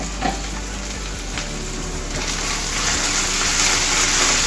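Chopped onions with salt sizzle steadily in hot oil, a dense continuous frying hiss with soft crackles that grows slightly louder toward the end, close and with no talking.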